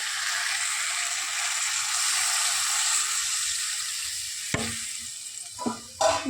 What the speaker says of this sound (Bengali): কষানো হয়ে গেছে এবার দিয়ে দেবো জল